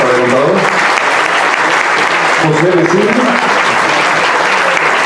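A lecture audience applauds an accountant speaker with dense, continuous clapping, while a presenter's voice speaks over the applause partway through.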